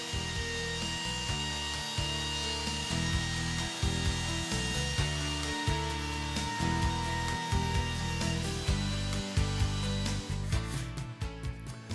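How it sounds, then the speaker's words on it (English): A router trims a hardboard edge flush with plywood while building a drill press table, a loud continuous whine with short pauses and restarts as it moves around the edge, with no talking. "Turn the router on, move the bearing so it's up against the plywood edge, then trim the hardboard edge so it's flush with the plywood"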